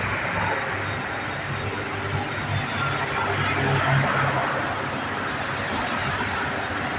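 Steady broadband rumble and hiss of a BTS Skytrain Silom Line train at Saphan Taksin station platform in Bangkok, a continuous loud drone with no clear voices.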